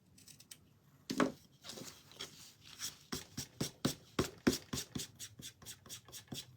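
Scissors snip through twine in a quick, irregular run of sharp, close cuts and rustles, starting with a few isolated snips and then settling into steady repeated clipping, no talk.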